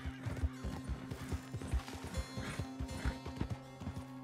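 A horse in the video game Red Dead Redemption trots with rapid, rhythmic clip-clop hoofbeats and a whinny, steady and fairly close over a low game soundscape.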